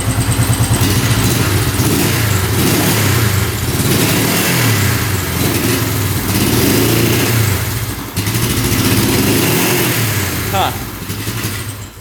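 A cheap $400 twin-cylinder motorcycle runs on both cylinders, its engine idling and revving close by in a loud, continuous burble with rises in pitch, while people talk over it.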